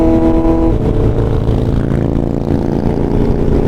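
A Kawasaki Z900 motorcycle fitted with an Arrow full exhaust system revs loudly up close, its throaty engine note holding steady and then shifting pitch as the throttle is worked.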